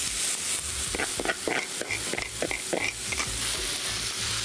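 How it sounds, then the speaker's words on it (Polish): Vegetables dressed with olive oil frying in a very hot pan, a steady loud sizzle with crackling pops and occasional stirring scrapes, close up with no talk. "żeby nasze warzywa doprawić od razu oliwą z oliwek i smażyć na bardzo mocno rozgrzanej patelni"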